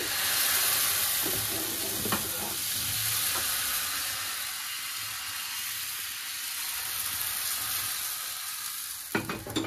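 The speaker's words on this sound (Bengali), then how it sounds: "চাটুতে একটু তেল মাখিয়ে নিলাম। আমি 2 হাতা করে দিচ্ছি এইখানে।" Pati shapta batter spread on an oiled tawa over a low gas flame, a close, steady frying sizzle and hiss that slowly fades and swells, with a few faint scraping clicks near the end, no talk.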